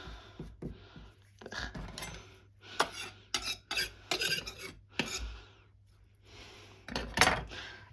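Carrots being shredded on a grater in a home kitchen, a series of quick rasping scrapes in uneven bursts with short pauses between strokes, close and fairly clear with no talking.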